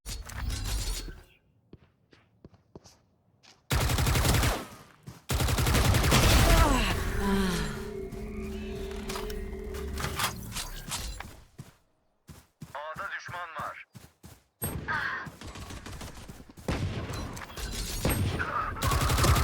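Gunfire in a first-person shooter game, bursts of rapid automatic shots and loud single cracks come in several clusters among quieter gaps, close and harsh, with people talking in between.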